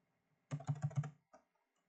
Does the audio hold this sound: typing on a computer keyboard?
yes